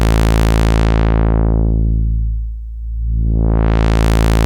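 A buzzy Behringer Pro 800 synthesizer tone is filtered through a 24 dB 4-pole low-pass filter down to a dull, muffled hum, then sweeps back open to a bright, full buzz.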